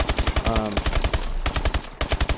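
Rapid automatic gunfire from the video game Advanced Warfare, loud and close, with steady bursts of shots running almost the whole way through and only a brief gap near the middle.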